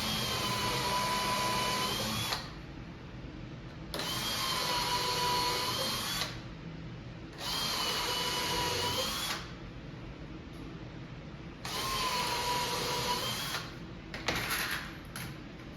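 A power drill drives screws into the side rail of a Tapper arcade cabinet that is being restored, with four loud bursts of whining motor, each about two seconds long, separated by short pauses.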